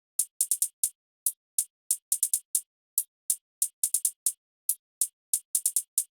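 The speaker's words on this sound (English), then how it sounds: "guys, we have hi-hat pattern number 1" Crisp programmed hi-hat hits from an FL Studio jazz beat tick in an uneven, swung pattern, clustered bursts separated by short gaps, alone and fairly quiet with no voices.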